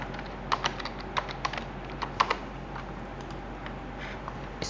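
Typing on a computer keyboard comes through as quiet, irregular clusters of key clicks, close and isolated, over a low steady background hum, with no talking.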